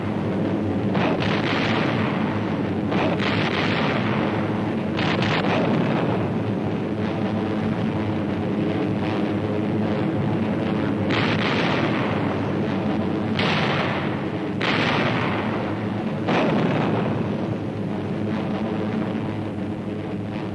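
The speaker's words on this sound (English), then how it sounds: "Fragmentation bombs attached to parachutes." Fragmentation bombs dropped on parachutes burst over a Pacific island in WWII, a dense barrage of heavy rumbling blasts overlapping continuously, with sharper detonations every couple of seconds over a loud, unbroken roar.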